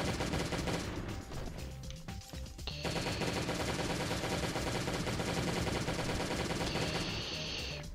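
An M16 and other guns fire in Last Day On Earth: Survival, producing dense, continuous automatic gunfire, loud and close, with sustained bursts that barely pause.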